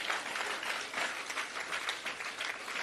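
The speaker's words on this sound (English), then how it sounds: "I want us to give these comrades a good round of applause." An audience at an ANC political education program unveiling gives a sustained round of applause, steady dense clapping that carries on throughout, with faint voices underneath.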